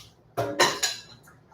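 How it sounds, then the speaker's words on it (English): A bowl taken from a dishwasher gets rinsed at the sink: a few short, close bursts of splashing water with light dish clatter, separated by quiet, and no talking. "I'm going to have to give one of these bowls a rinse."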